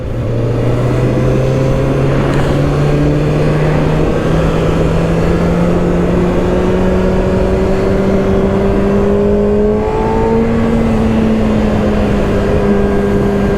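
A 2024 Kawasaki ZX-6R 636 motorcycle engine hums steadily at speed, its tone sliding slowly upward and then shifting as it settles, heard up close under loud continuous wind rush.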